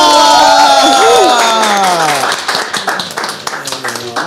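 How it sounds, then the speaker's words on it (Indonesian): An audience applauds at a football farewell event: a loud, drawn-out voice comes first, then scattered claps break out and continue unevenly at moderate volume. "Berikan tepuk tangan untuk Anthony Jomaba."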